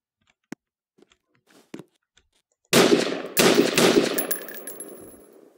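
Gunshots at a Coast Guard Academy shooting range: a few faint sharp pops at first, then a loud close burst of rapid reports with reverberant tails from about the middle onward.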